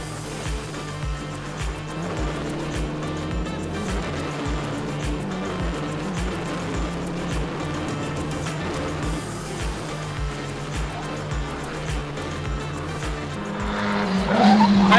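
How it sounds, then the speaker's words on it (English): Formula 4 race cars scream past at turn 3 of a circuit, a steady loud engine drone with shifting pitch and tyre squeal, growing louder near the end. "Nikita made another pass into turn 3 against this Van Amersfoort racing car"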